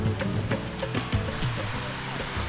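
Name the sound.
waterfall at Sticky Waterfalls, Chiang Mai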